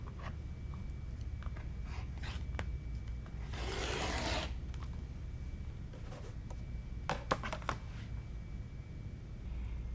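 A rotary cutter slicing through a quilt top around a 16.5-inch square ruler, a soft close rasping swipe in the middle followed by a few sharp scraping strokes, quiet and without talk.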